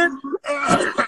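A short voiced sound gives way to a rough, harsh cough or throat-clearing burst, close and brief.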